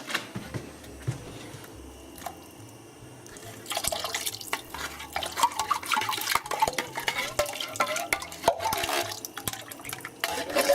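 Coconut milk is poured into a pot of spicy pepper and tomato soup and stirred, starting as a low murmur and turning into a busy run of liquid splashes, drips and spoon scrapes.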